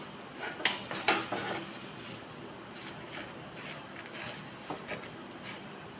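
Kochur loti (taro stolons) fry in a pan with a steady close sizzle and crackle, while occasional stirring scrapes and light clinks sound over the hiss.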